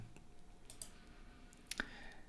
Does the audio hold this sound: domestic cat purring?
no